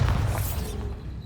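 The Bombarda spell in Hogwarts Legacy detonates as a deep, heavy boom with a broad rumbling blast that decays over about a second.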